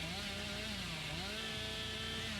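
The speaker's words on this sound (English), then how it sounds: "I'm just gonna let my chainsaw do the talking for me." Billy's chainsaw revving in the Dead by Daylight video game, a continuous buzzing motor drone with a wavering pitch that dips and rises, loud and steady throughout with no talk.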